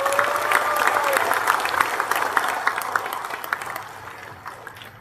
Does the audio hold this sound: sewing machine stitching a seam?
no